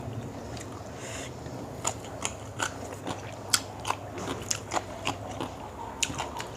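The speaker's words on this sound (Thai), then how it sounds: "มาเด้อทุกคนมากิน ส้มตำกับหมูแจ่ว" Close, crunchy chewing and biting while eating papaya salad (som tam) with grilled pork, a series of sharp crisp bites repeating roughly every half second over a faint low background.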